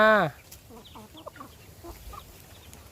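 A brief loud call opens, then soft, scattered clucks from chickens follow at a moderate distance, with no talking.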